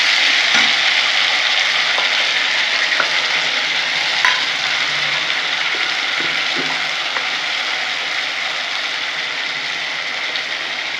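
A paste of ginger, garlic, green and red chilies and ground tomato fries in a pan, a steady, loud sizzle with occasional stirring clicks and scrapes, close and without speech.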